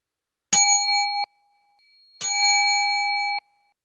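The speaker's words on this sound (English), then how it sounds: "So we'll ring their bells together." Two separate rings of a bell during a Sunday worship service, each bright tone struck and held about a second, clear and close in an otherwise quiet room.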